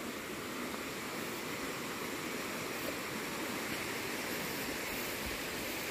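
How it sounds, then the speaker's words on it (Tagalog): A river in the Hinaguan nature park flows with a continuous, even rushing of water, a steady broadband wash with no voices. "Ito na yung malapit sa bandang ilog."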